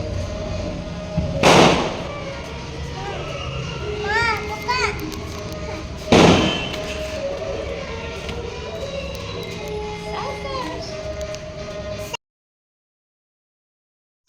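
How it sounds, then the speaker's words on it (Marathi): Two sharp firecracker bangs go off several seconds apart amid outdoor crowd chatter and children's voices at a Ganesh festival in a village near Sangli. "फटाक्यांचा आवाज येतो"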